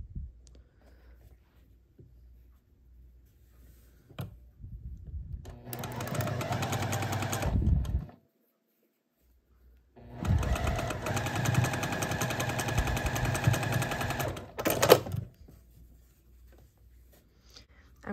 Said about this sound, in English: The next step is to sew this corner piece to it.